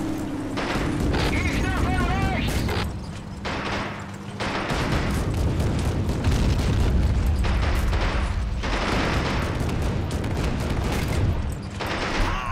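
Rapid gunfire and heavy booming blasts in the Men of War: Assault Squad 2 battle game, a dense, loud, continuous barrage with artillery impacts and mechanical rumble, with a voice speaking over parts.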